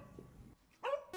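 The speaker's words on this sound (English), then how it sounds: "Can you check and see what that dog's barking about?" A dog gives a single sharp bark, close by, after a brief quiet stretch with a faint rumble.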